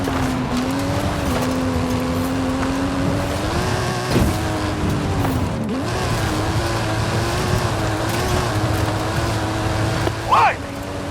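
Engine of a Mike Steel Special stunt car with custom engine and suspension in Forza Horizon 5, droning steadily as it climbs a hill, with a brief screech near the end and voices talking over it.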